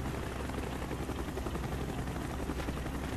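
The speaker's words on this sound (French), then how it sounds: "Il y a plein d'hélicoptères" A steady rotor drone from several helicopters in Call of Duty: Black Ops fills the scene at a constant level, with faint scattered gunfire mixed into the noisy background.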